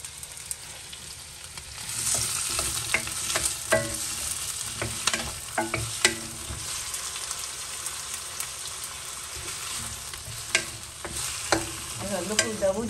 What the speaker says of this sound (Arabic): هننزل بالصويا صوص على الخضار